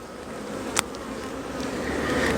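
Honey bees in a busy hive working in cold weather: a dense, steady buzzing drone, close and continuous, with a brief tap near the start.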